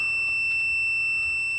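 An ANENG 681 smart multimeter holds a continuous, steady electronic beep while it detects resistance, loud and close with no pauses.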